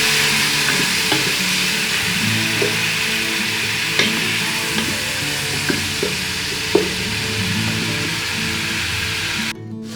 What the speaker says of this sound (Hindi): अब हम अपना वो पेस्ट डाल देंगे जो हमने चॉपर में चॉप किया था। और फिर इसको भी भून लेंगे।